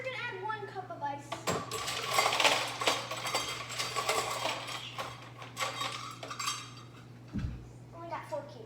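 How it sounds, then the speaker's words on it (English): Ice cubes drop into a blender jar for a garden smoothie, clattering in scattered clinks and knocks, close up, with a steady hum underneath and voices talking in the background. "Well, actually we're gonna add 1 cup of ice."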